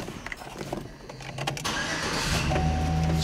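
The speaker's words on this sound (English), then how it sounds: "Starts right up and sounds real good." Chevrolet Silverado pickup engine starting: a brief cranking whir followed by the engine catching and settling into a steady, even idle, close and clear, with no talking.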